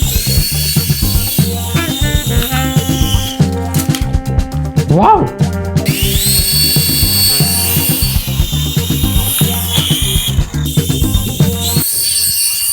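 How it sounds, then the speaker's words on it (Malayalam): A small remote-control toy helicopter flies close by, its motor and rotor giving a loud, steady whine whose pitch rises and falls. A person speaks briefly over it. "അത് നമുക്ക് ഹെലികോപ്റ്റർ ടെസ്റ്റ് ചെയ്ത് നോക്കാം."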